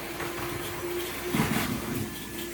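A small model train rumbles along its track on a layout with a steady electric hum and soft clicking wheels, close by in a quiet room.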